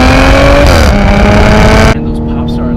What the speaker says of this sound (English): those pops are like, the shifts are amazing